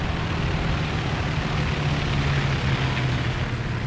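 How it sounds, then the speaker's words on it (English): A propeller aircraft engine in War Thunder air arcade battle drones steadily and fairly loud, a continuous rumbling hum with a slight pitch wobble as the plane passes, with no voices. "Heard a plane, but check the radar."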